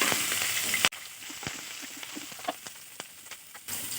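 Chopped ginger and green chilli fry in a couple of spoons of white oil, starting as a loud sizzle that drops sharply to a quieter crackle with scattered pops and spatters before it swells again.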